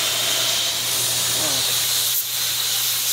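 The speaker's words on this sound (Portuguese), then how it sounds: "Com certeza o carro tava fervendo." Steam hisses steadily from an overheated, boiling car engine in a repair workshop, a continuous broadband rush that holds nearly level throughout, with a faint low hum beneath.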